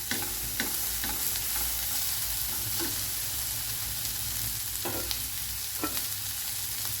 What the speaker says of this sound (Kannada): ಆಗ ಆನಿಯನ್ನು ಒಟ್ಟಿಗೆ ಫ್ರೈ ಆಗ್ತದೆ